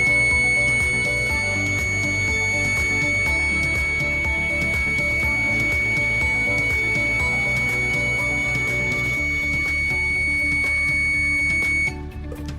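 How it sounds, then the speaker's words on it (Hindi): A Safeon Power Purifier electrical safety device sounds its alarm when two wires are touched together to cause a short circuit, producing a loud, steady high-pitched electronic tone with continuous buzzing underneath that holds for about twelve seconds, then cuts off. "सेफॉन पावर प्यूरिफायर का ये अलार्म बज उठा"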